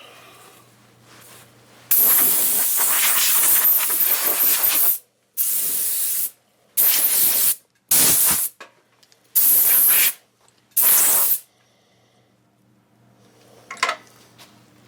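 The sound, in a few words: compressed air blowing off a lathe shaft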